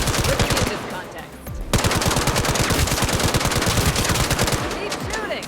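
Rapid automatic gunfire in the crime game Gangstar Mirage City, dense repeated bursts of shots rattling almost continuously with a brief pause near the start, loud and close.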